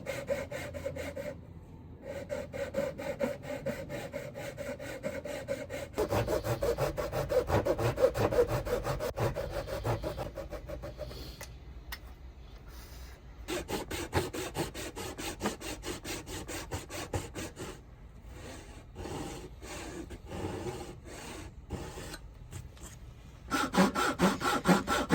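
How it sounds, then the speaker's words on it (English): A hand saw cuts tenons in pine for a narrow entryway shoe bench, steady rhythmic back-and-forth strokes close by, with brief pauses between bursts of sawing and no talk. "I found sawing the tenons by hand was quite relaxing and enjoyable"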